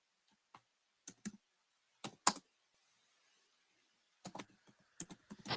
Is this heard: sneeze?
no